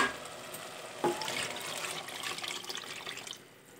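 Tamarind water mixed with chili powder is poured into a pan of aloe vera frying for kuzhambu. A sudden splash gives way to steady hissing, bubbling sizzle that fades toward the end.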